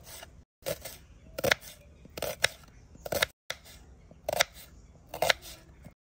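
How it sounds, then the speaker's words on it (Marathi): Knife chopping onion finely on a cutting board during Indian methi masala cooking, a series of close, sharp crisp cuts in uneven bursts with short pauses between them, no talking. "आपण आता कांदा बारीक कापून घेणार आहोत"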